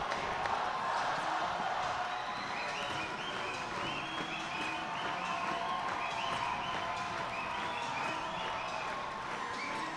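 A packed gym at a Westview vs Fairfield boys varsity high school basketball game roars continuously, with cheering, whistles and sneaker squeaks layered through the din for the full stretch.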